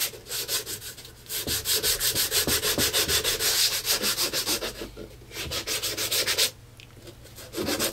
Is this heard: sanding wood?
yes